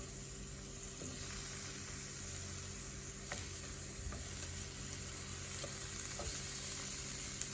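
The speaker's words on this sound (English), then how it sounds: "now we're just gonna go ahead and put in the eggplant" Eggplant slices sizzle and fry in hot oil in a pan, a steady close crackling hiss with a few faint clicks of utensils, no talking.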